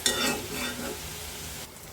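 Banana blossom fry with chopped dried chili and coriander leaves being stirred in a pan, a brief close scrape and sizzle that tapers off, with no voices.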